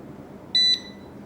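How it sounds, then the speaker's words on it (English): A non-contact voltage detector switching on gives a single loud, clear electronic beep of about a fifth of a second over a quiet background, with no one talking. "for use this non-contact voltage detector, press the green key"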